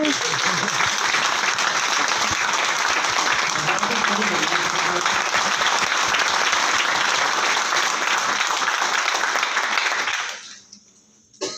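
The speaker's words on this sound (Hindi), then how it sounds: "2 तालियां चीफ गेस्ट के लिए" A crowd applauds the chief guest at an event with a loud, dense burst of clapping that holds steady for about ten seconds, then quickly dies away.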